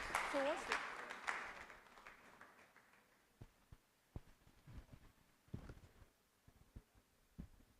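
Audience clapping at a business conference fades out over the first few seconds, leaving scattered isolated claps and taps in a quieter room; people talk briefly near the start.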